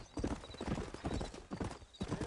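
Horse hooves clip-clopping at an easy pace in the Red Dead Redemption video game, a close, steady run of hoof beats, fairly quiet.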